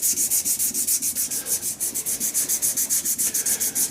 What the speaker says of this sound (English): it's just sanding it in different directions so that we're making sure we're minimising any chance of lines and scratches